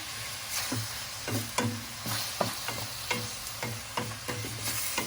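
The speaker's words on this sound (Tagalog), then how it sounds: "Lutuin na natin yung chicken." Chicken pieces stirred and sizzling in a pan for Filipino tinola, with steady frying crackle broken by repeated scraping stir strokes at a close, moderate level and no voices.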